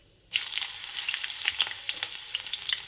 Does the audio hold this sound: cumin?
yes